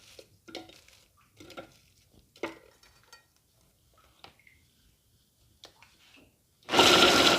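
A kitchen blender grinds crisp, cooled toasted bread slices into crumbs, heard as a loud, steady whirring burst near the end, after a few scattered clinks and knocks.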